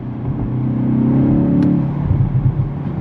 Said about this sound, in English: hear the stock intake.